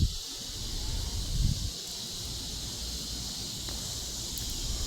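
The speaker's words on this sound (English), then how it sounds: "Including this wind." Steady outdoor wind with cicadas droning behind it, a continuous airy rush and buzzing hiss that swells slightly near the start and carries on without any talk.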